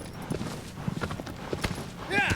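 Horse hooves clip-clopping across ground in Shadow of the Colossus on PS4, a quick uneven run of close hoofbeats under game sounds, ending in a rising whoosh.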